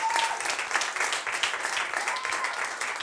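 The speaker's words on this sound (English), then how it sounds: "Ladies and gentlemen, Roz Hammond, round of applause" Studio audience applauds guest Roz Hammond on a live chat show, a dense, steady wash of many hands clapping that fills the whole stretch at an even level with no voices on top.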